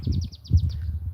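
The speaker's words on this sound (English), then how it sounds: "That's a sunbird, very loud." A sunbird in Kenya gives a rapid series of high, thin chirps, about eight notes in quick rhythm, loud and close over a low background rumble.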